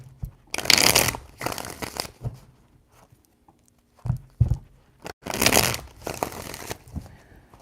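Tarot cards are shuffled by hand in several quick crisp riffling bursts, separated by pauses and softer handling noises, close and fairly loud.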